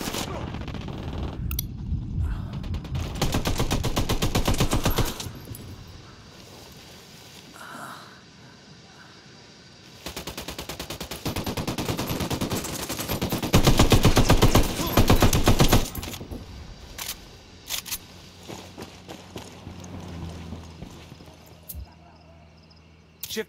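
Gunfire in Ghost Recon Wildlands: long sustained bursts of automatic fire alternating with quieter gaps and scattered single shots, loud and close at times.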